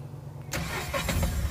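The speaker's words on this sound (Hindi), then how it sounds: "तो यहाँ हम गाड़ी को स्टार्ट करते हैं" A Tata Ace Gold BS6 mini truck's diesel engine cranks and fires up about halfway through after quiet, then settles into a rough, close idle.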